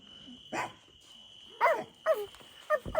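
A dog barks outdoors by a new children's playground, a handful of separate sharp barks and yips spaced irregularly, fairly distant over a quiet evening background with a steady high hum.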